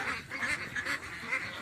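Geese on a desert farm in Saudi Arabia honk in a rapid string of short, nasal calls, close by and fairly loud, with no talking.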